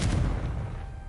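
A Confringo blasting spell goes off in the Hogwarts Legacy video game, a heavy boom with a deep rumbling tail that decays gradually over about a second, loud and close.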